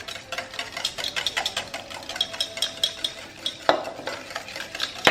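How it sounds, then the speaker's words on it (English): Sugar and oil whisked into carrot cake batter in a bowl, a quick rhythmic scraping and clicking of the whisk, close and fairly soft, with no talking. "and the oil slowly as we whisk to make sure that it all gets incorporated."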